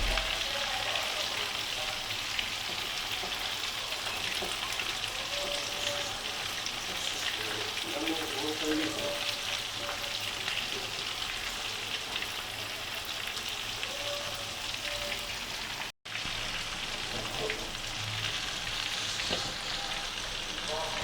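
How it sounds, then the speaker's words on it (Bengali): Prawns fry in oil over a high flame, giving a continuous loud sizzle with a brief dropout near the end and no talk. "সেজন্যেই একদম হাই ফ্লেমে আমাকে ভাজা করে নামাতে হবে।"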